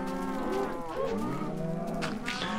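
Cows moo in the video game Minecraft, several long, wavering low calls overlapping one another at a moderate level, with no speech on top.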